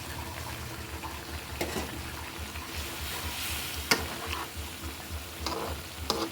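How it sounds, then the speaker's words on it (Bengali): Hilsa fish curry with water lilies is stirred in a pan: a low simmering sizzle with a few sharp utensil knocks and scrapes, close by and without speech. "একটু নাড়াচাড়া দিয়ে নিচ্ছি।"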